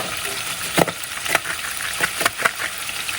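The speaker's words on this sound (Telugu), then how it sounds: "సో ఆల్రెడీ నేను ఆయిల్ వేసాను, ఆయిల్లోని పన్నీర్ వేసాను." Paneer sizzling in hot oil, a steady close crackle broken by several sharp stir or scrape bursts at irregular intervals.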